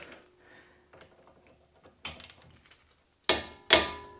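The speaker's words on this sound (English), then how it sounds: "break these loose and remove these 12mm bolts." Sparse metallic clicks and light ratcheting from a wrench working loose 12mm brake bolts on a 2009–2020 Honda Fit, ending in two sharp, louder clanks close by, with no speech.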